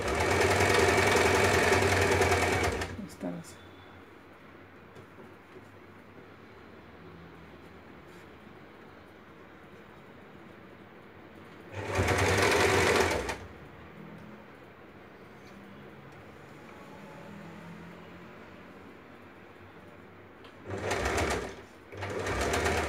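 A sewing machine stitches salwar fabric in loud close bursts, a long run at the start, another in the middle and two short runs at the end, with quiet gaps between them.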